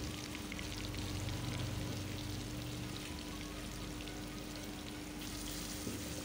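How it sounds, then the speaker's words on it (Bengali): Paneer cubes coated in spices and salt frying in a pan, giving a steady, soft, continuous sizzle and crackle with no talk over it. "পুরো পনিরটাই দিয়ে দিলাম ফ্রাইয়ে"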